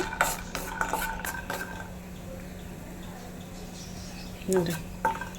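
Grapes fry on medium flame in a pan, a soft sizzle beneath scattered clinks and scrapes of a spoon against metal, close by; a voice is briefly audible.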